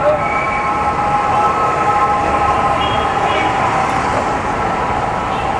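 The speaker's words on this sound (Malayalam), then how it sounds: "കാക്കനാടേക്കുള്ള ആ മെട്രോ റെയിലായിരുന്നു." A Kochi metro train bound for Kakkanad rumbles past with a steady roar and sustained high-pitched tonal screeching, loud and continuous for several seconds.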